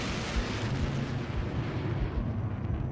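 Sustained 30 mm cannon fire from an A-10 Thunderbolt in the war game Combat Mission, a rough, rumbling roar of rapid shots blending into one continuous, heavy burst without speech.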